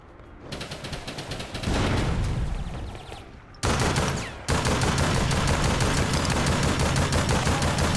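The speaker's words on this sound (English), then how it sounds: "Gotta love that machine gun when you get your shots in." Bursts of machine gun fire from the video game APB ring out loud and close, first a short rattle, then long sustained streams broken by a brief pause.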